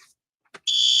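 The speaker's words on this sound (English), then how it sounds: "Oh goody, we get a fire alarm that everybody gets to hear about here too." An electronic fire alarm in a building starts up after a couple of faint short blips, then sounds as a loud, piercing continuous tone, with no voices.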